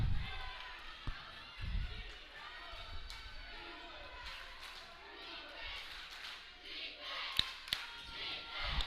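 A high school boys basketball game crowd in a gym cheers with a steady murmuring roar, punctuated by ball bounces, sneaker squeaks and thuds, while an announcer talks over it.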